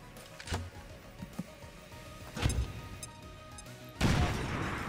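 Explosions and gunfire in XCOM 2: a few sharp scattered bangs, a louder blast in the middle and a heavy boom near the end that rolls on into a long rumbling tail.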